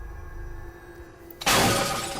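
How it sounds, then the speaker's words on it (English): The glass face of a clock cracks and shatters in one sudden sharp burst of breaking glass after a quiet stretch, then fades out. "until the glass cracked."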